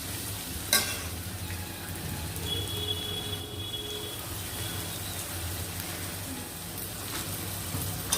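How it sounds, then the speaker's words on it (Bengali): Egg chow mein coated in tomato sauce sizzles steadily in a hot pan, a continuous close frying hiss with occasional soft scrapes and clinks of the stirring utensil, no talking. "টমেটো সসটা দিয়ে দিয়েছি ওটাকে ভালো করে নাড়িয়েছি দেখো"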